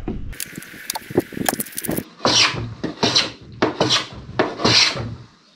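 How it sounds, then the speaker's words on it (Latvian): A handsaw cuts a small wooden trapezoid piece, rasping strokes first quick and busy, then slower, separate pushes of about five strokes, close and clear with no talk. "Zāģēju šādu trapecīti."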